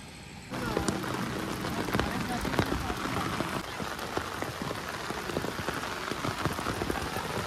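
Heavy rain pours down steadily on a paddy field after a brief quieter start, dense pattering on water and ground close by.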